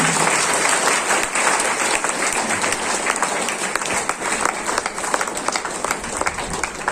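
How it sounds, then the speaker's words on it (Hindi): An audience at a Brahma Kumaris spiritual gathering bursts into loud, vigorous applause, a dense continuous clatter of many hands filling the hall, close and sustained throughout. "तो अपने लिए भी जोरदार ताली बजाएंगे।"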